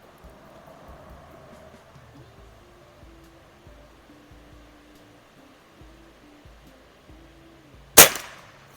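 A Beeman QB Chief pump-up air rifle firing a pellet: one sharp, loud crack near the end after a long stretch of quiet low hum.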